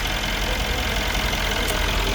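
A 2012 Mercedes CLS 63 with 137,000 km and a new thermostat idles steadily, a constant loud engine rumble with no breaks or speech.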